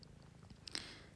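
A pet-sitting cat purrs on a lap, a soft close continuous rumble running under the whole short stretch, briefly overlaid by a faint rustle near the end.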